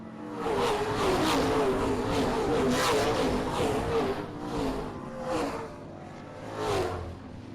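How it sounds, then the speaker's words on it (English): Race cars run single file around a 3/8 mile oval at Springport Motor Speedway, their engines droning loudly and steadily and then swelling and fading as the field passes. "Now the entire field, single file, around the 3/8 mile Springport Motor Speedway."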